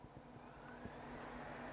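A PowerBook G4 laptop hard drive spins up just after power-on, a steady, faint mechanical whir and hum that runs continuously throughout with a few soft clicks.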